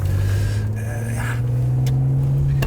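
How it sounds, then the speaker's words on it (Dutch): A manual Ferrari 599 GTB V12 idles with a steady low engine hum, rising slightly in a mild throttle blip, heard close up without talk. "Je geeft wat gas en dan kun je nog eens een beetje tussengas geven."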